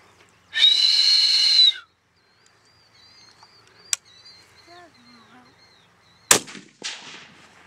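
A single sharp rifle report from a .220 Swift fired at a hog outdoors, a loud crack late in the clip, preceded by a long whistle-like tone and scattered faint bird calls and small noises.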